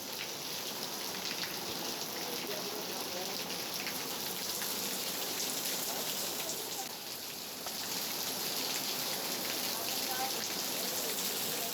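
Pre-monsoon rain falls across a city in light showers, a dense, steady patter of drops on surfaces that holds evenly throughout, close and continuous without talking.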